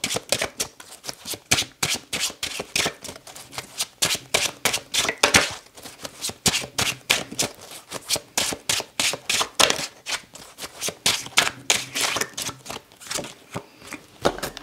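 A deck of tarot cards is shuffled close up, a steady run of crisp riffling slaps and flutters that carries on throughout with no one speaking.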